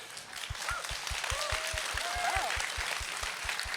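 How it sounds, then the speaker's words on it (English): Audience applause following a talk of advice to aspiring actors, a steady broad wash of clapping with no voices, over a regular low rhythmic thump. "I do have another round of applause for that life lesson"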